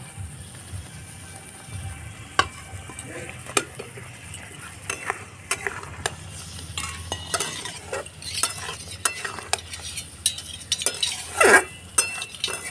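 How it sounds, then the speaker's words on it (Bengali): Boiled potatoes being sautéed in a pan for a vegetarian potato dish, with a soft sizzle underneath and repeated sharp scrapes and clinks of a spatula stirring against the metal. "আলুটা ভালো করে কষিয়ে নেব"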